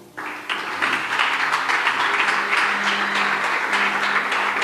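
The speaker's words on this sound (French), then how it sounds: "Tu peux me donner beaucoup d'acclamations." A church congregation breaks into sustained applause after a sermon's blessing, the clapping dense and steady from start to finish, with a brief faint voice at the very beginning.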